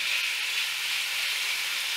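Beef pieces with olive oil sizzle in a hot wok for gluten-free beef and broccoli, a loud, steady, close hiss with no breaks and no voices.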